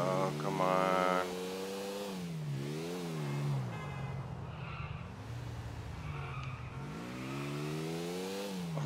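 A car driven in GTA IV revs and slides, its engine note rising and falling while tires squeal and skid almost continuously, loud and close.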